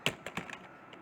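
Quick burst of keystrokes on a computer keyboard while coding in Python, about five crisp close taps in a rapid uneven rhythm, then near silence.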